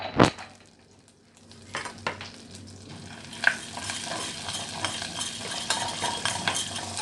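Cumin seeds sizzling in butter in a pan, a soft steady frying hiss with a few sharp spoon and pan clinks scattered across it, quiet and close.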